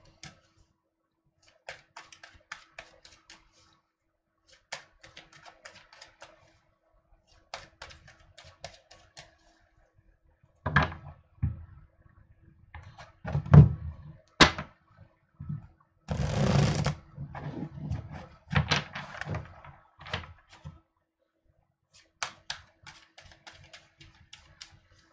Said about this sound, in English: So shuffling now and going to Virgo.